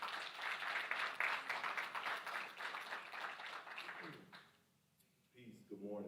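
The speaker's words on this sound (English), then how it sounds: "Let's give him a round of applause." An audience gives a round of applause for a poet at a live-streamed event, steady clapping that fades out near the end before a voice begins speaking.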